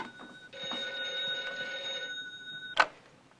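An old-fashioned telephone bell rings once in a long metallic trill, then breaks off with a sharp clack as the handset is picked up, close and fairly clear in a quiet room.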